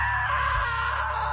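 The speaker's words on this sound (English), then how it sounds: "Now that was a great scream." A drawn-out, loud scream in the game What Remains of Edith Finch, held steadily for over a second and close up, with a low rumbling underneath.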